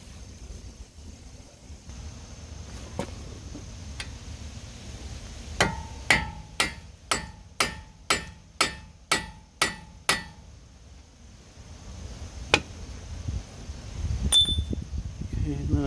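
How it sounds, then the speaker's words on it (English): A hammer taps the front axle of a 2009 Kia Sportage to free it from the wheel bearing hub: a quick run of about ten sharp, evenly spaced metallic strikes, with a few isolated knocks before and after against quiet shop background. "I'm going to tap the axle in here, see if I can free it up inside of the wheel bearing"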